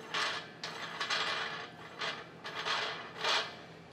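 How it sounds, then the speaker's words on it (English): A wing nut on an RV propane cylinder bracket of a 2020 Timber Ridge trailer is turned loose in short scraping, rasping bursts, about six quick metallic twists close up with brief pauses between. "All you're gonna do is loosen up this wing nut."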